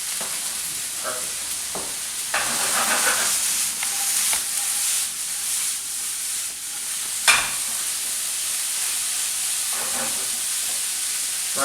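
Courgettes and aubergines frying in a frying pan for ratatouille, a steady close sizzle with occasional stirring scrapes and brief louder bursts throughout, no talking.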